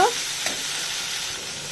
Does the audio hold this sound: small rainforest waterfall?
no